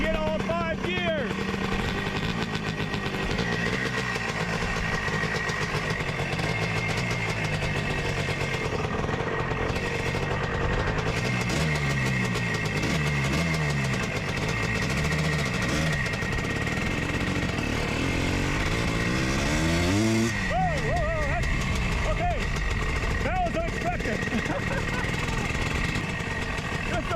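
Loud, steady engine roar from a Honda ATC 250R three-wheeler, revving up and down through the gears as it rides, close and continuous for the whole stretch, with a person talking over it at points.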